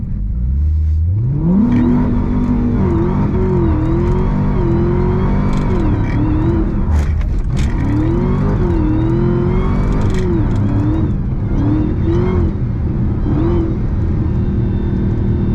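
A Hellcat-swapped Chrysler 300 engine revs hard while sliding in fourth gear, pitch climbing and wavering through repeated surges and dips over a sustained loud roar, with tire noise mixed in.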